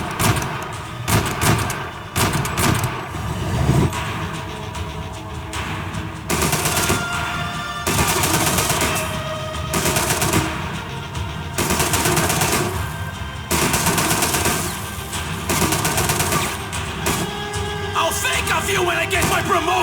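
Gunfire in the Max Payne 3 video game, dense bursts of shots and impacts rolling on through the whole stretch, loud and busy over game music and effects, with voices mixed in.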